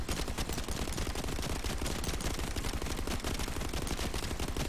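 Automatic gun firing off a full magazine in a sci-fi shooter, a rapid, evenly spaced stream of loud shots with no pause, continuous from start to finish and alone in the mix.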